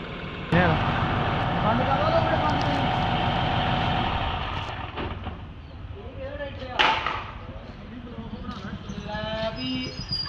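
A New Holland 5630 4x4 tractor arrives in a village, its loud, steady engine drone dominating the first few seconds before easing down as voices and crowd noise take over nearby.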